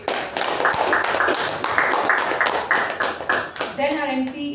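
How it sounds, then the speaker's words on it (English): Audience applause at a club meeting: a room of people clapping in a dense patter for a few seconds before it thins out and voices start talking. "Please give a huge round of applause for table topic."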